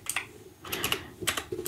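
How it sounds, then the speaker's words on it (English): Fingers type on a computer keyboard in short bursts of quick, close clicking keystrokes with brief pauses between them. "just go ahead and type in slash"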